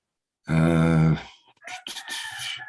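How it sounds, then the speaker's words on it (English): A rooster crows once, loud and close, with a long sustained call, followed by people talking indoors at a knowledge seekers workshop. "The rooster crows here, usually toward the end of a workshop, sometimes conveniently so."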